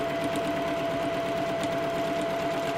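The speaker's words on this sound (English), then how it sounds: "I'm going to be stitching right alongside that line my 1/4 inch" A sewing machine running a quarter-inch seam on a quilt block, giving a steady, even mechanical whir with a fast rhythmic stitching pulse that holds throughout, close and alone with no talk.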